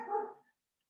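A single short dog bark sounds once, fairly faint and slightly distant, then cuts to silence.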